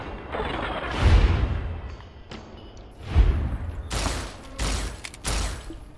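Gunfire in the video game Fallout: New Vegas, a run of sharp shots and crashing bursts spread across the moment, loud and close with no talking.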